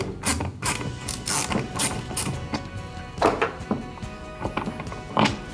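A bolt on a Hobie Mirage Passport 10.5 kayak pedal drive is backed out, giving close, irregular ratcheting clicks and small metallic clunks in short bursts, with no talking.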